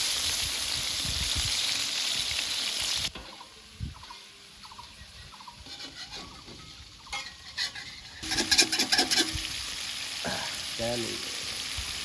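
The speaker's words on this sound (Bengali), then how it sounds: "কড়া ভাজা দিতে হবে, কড়া ভাজা" Fresh pond rui fish fries crisp in hot oil, opening with a loud, dense sizzle that drops to a quieter crackle, with occasional stirring and clinks of the pan toward the end.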